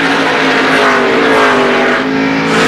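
Chevrolet Monte Carlo NASCAR Winston Cup race car at Richmond International Raceway, its engine roaring loudly at high revs with a sustained harmonic whine that rises and falls slightly as the car passes.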